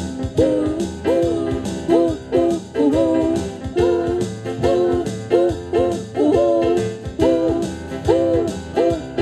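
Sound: people imitating an owl's hoot in a song

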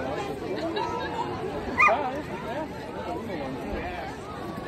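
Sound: chihuahua barking at a pet parade

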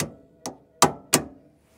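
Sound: hammering a Corvette lower control arm off

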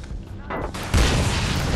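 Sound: grenade explosion in video game Army of Two: The Devil's Cartel

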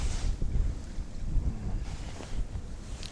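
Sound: wind blowing at winter fishing spot

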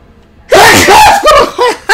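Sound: sneeze

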